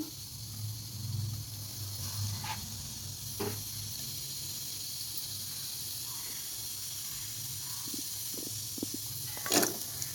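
Cumin and mustard seeds sizzling in hot oil in a pan, a continuous soft hiss with occasional pops and crackles, fairly faint and steady throughout.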